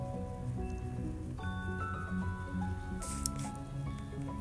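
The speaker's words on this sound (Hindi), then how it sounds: "मैं इसे खुला करने के लिए स्मैशर का इस्तेमाल कर रही हूँ।" Cooked moong dal being mashed with a hand masher, soft wet squishing and dripping sounds repeating under a quiet tonal hum, with a brief sharper splat near the end.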